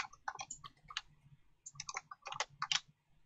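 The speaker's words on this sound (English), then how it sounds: "And you can hear him clicking away." A computer keyboard and mouse click away during a game of Star Wars Battlefront, with quick irregular clusters of sharp taps and clicks, close-miked and fairly quiet, with no talk.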